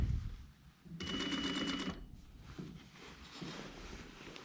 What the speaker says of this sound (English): we can stop and adjust as many times as we wish to ensure we're stitching around the curve